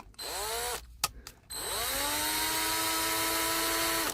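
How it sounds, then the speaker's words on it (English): A small high-pitched drill whines up to speed, stops briefly, then spins up again and runs steadily, close and loud, drilling a circuit board of a Marshall JMP 50 MK2 amplifier. "See, it's not so bad withdrawing it when you're drilling them this way"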